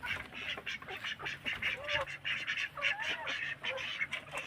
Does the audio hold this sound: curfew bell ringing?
no